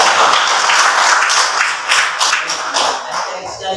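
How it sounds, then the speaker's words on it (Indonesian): A classroom of children applauding a student named Nadia, a dense burst of clapping close by that fades a little toward the end. "tepuk tangan untuk Nadia"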